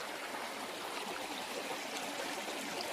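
A river stream flowing beside a hiking trail on Mt. Tanawan, heard as a steady, soft broadband rush and trickle of water, constant and unbroken, with no voices.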